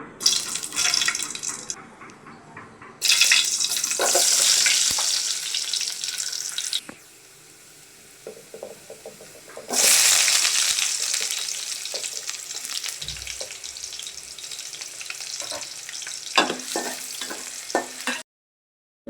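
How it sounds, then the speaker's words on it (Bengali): Dried red chilies, garlic and onion hit hot tempering oil for a lentil and okra dal, bursting into loud sizzling in waves with stirring clatter, a brief lull midway, then a second strong crackling surge that fades out. "ফোড়নে প্রথমে শুকনো মরিচ দিয়ে দিয়েছি তারপর রসুন দিয়ে দিলাম এখন পেঁয়াজ দিয়ে দিয়েছি"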